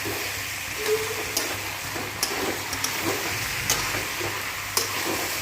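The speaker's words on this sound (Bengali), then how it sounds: "এবার আলু ভাজাগুলো দিয়ে দিলাম।" Fried potato pieces drop into a pan of simmering duck curry and sizzle with a steady close hiss, broken by occasional sharp clicks and scrapes of stirring.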